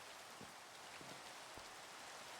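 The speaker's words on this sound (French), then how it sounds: "Ah, c'est bon, la pluie s'est arrêtée." Rain falls steadily in a video game, a faint, even hiss of drops with a few soft low thumps scattered through, no voices over it.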